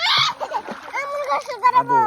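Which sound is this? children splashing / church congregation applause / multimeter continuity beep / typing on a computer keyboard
children splashing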